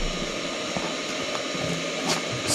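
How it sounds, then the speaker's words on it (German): A vacuum cleaner runs in the background with a steady, even whirring drone and a faint tonal hum. The level stays constant throughout and no one speaks. "Großstadtflair mit Staubsauger"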